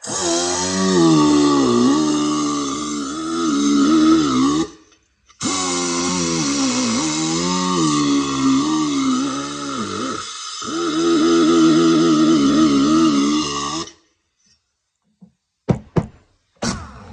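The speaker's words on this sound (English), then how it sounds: "So just a little bit of a wire brush." A powered wire brush scours brake parts from a 1982 Honda Big Red 200E three-wheeler. A steady, loud motor whine runs in long bursts with short pauses, then a few sharp knocks follow near the end.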